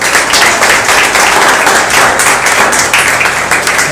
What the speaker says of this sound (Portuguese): E as palmas são para ele